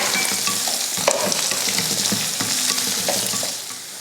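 Lentils frying in hot oil in a pan until golden, a steady close sizzle broken by light stirring scrapes and small crackles that fade slightly at the end.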